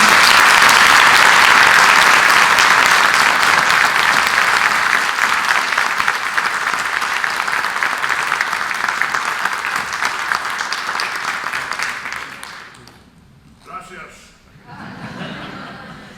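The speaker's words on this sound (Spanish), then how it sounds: "Un aplauso." Loud applause from a conference audience welcoming former American football player Randy White, dense and sustained before tapering off, followed by a brief quiet gap and a faint voice.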